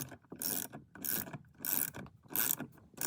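A ratchet wrench loosens the steering wheel bolt on an Audi B7/B8-era car, giving four quick bursts of close, crisp ratcheting clicks separated by short pauses, with no talk.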